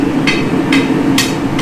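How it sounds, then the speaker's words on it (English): Steel hammer blows shaping the point of a hot steel knife blade at a forge, three or four sharp ringing strikes spaced about half a second apart over a steady low background hum. "You can see I'm sort of varying the angle of my hammer blows."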